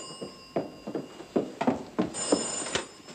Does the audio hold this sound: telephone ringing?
yes